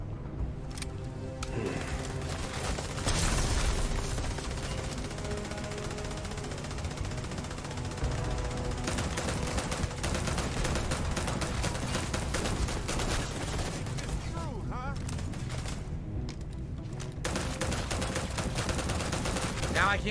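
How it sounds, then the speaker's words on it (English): Rapid gunfire in the space game Starfield sprays at metal railings, bursts of dense crackling shots running almost nonstop over background game noise, with a voice talking at times. "He's shooting the crap out of these railings."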